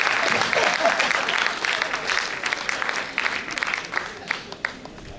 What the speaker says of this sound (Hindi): एक बार ताली बजाए